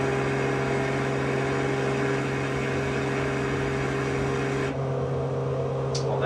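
Beechcraft Bonanza piston engine drones close by from a camera mounted under the airplane's belly, a loud, steady hum with strong low tones that stays even throughout, then briefly shifts near the end.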